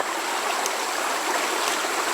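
Creek water flows steadily beside a cutover hunting area, a continuous broadband rush and trickle close by, carrying on unbroken with no talk.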